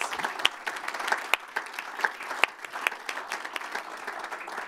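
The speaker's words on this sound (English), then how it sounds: "Let's give them a warm round of applause, please." Audience applause fills a conference hall at a European Central Bank banking colloquium, a steady patter of many hands with sharper individual claps standing out, sustained evenly for several seconds.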